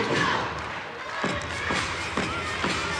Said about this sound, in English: See the teammates clapping along